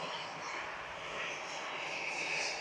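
A Qatar airliner rolls along the runway at Manchester Airport, a distant, steady jet engine roar with a soft high whine that swells slightly toward the end.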